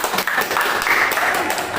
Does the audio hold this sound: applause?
yes